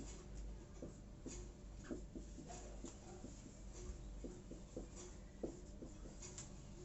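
Quiet chalk-like scratching and tapping strokes on a board during an organic chemistry lecture, coming in short irregular bursts over steady room hum, with no talking.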